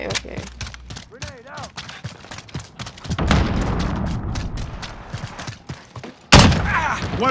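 A grenade detonates in the Call of Duty: Modern Warfare game, with a broad rumbling blast partway through and a sharper loud burst near the end, amid scattered in-game clatter and radio-like chatter.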